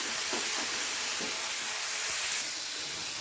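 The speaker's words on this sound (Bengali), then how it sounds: "নুন হলুদ ছাড়াই বেগুনগুলোকে সুন্দরভাবে একটু লাল লাল করে ভেজে নেব।" Eggplant pieces fry in hot oil with no salt or turmeric added, making a dense, steady sizzling hiss with a few soft spits and crackles, close and alone.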